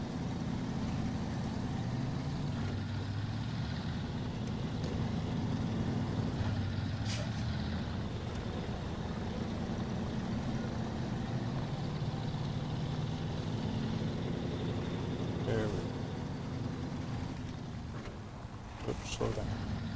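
A slow heavy truck engine rumbles steadily as it drives through the video game SnowRunner, a continuous low drone with occasional hissing air-brake bursts and a slight dip in loudness near the end.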